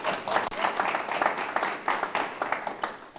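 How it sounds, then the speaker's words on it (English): A live panel audience at a community relations event applauds, a dense, lively patter of many hands clapping at once, steady and fairly close, with some voices mixed in. "Yes, you can applaud."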